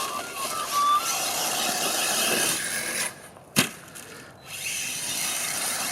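An ARRMA Senton 6S short course RC truck screams at full throttle with a high electric whine, dips briefly as it lands or tumbles, then whirs on again in the grass.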